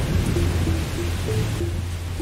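A thunderstorm with steady heavy rain hisses loudly and continuously, with a low thunder rumble underneath and faint tonal notes mixed in.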